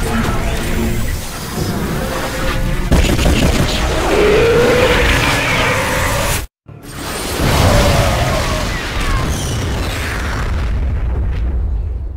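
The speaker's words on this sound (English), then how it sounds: "Bombardment systems online. Prepare for orbital strike." Orbital strike bombardment in StarCraft II, a sustained roar of booming, crackling explosions that fills the scene loudly, briefly cutting to silence before the rumbling blasts resume and slowly fade.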